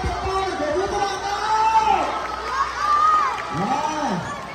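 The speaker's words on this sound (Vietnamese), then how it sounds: "các bạn hãy chúng mình hãy vỗ tay thật to để cổ vũ các bạn" Students at a school event with performers from the Vietnam Circus Federation cheer and shout for a circus performer, a loud continuous crowd roar with rising and falling voices throughout.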